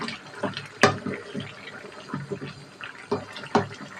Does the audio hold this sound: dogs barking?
no